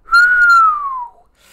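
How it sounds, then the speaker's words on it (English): A person whistles a single loud, close note that holds steady and then slides downward before stopping, followed by a brief soft rustle. "My fault, y'all, I'm whistling loud"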